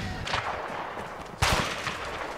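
Sniper rifle shots ring out in the video game A Way Out: a sharp crack early on, then a louder, close, booming report midway that trails into echoing rumble.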